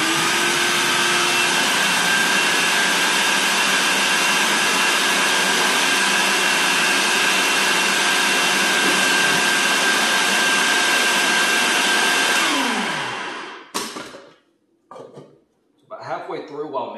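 A stand mixer runs on high speed, beating KFC-style butter biscuit dough in a loud, steady whirring roar for about thirteen seconds. It then spins down and stops, followed by brief clatter and a voice.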